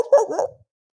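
A dog gives a single sharp bark up close, loud and brief, then quiet follows.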